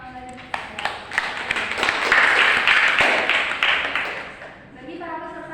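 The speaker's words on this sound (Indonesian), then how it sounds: "kita beri tepuk tangan lagi" Seminar participants clap in a burst of individual hand claps that swells into fuller applause, then thins out as a voice starts speaking near the end.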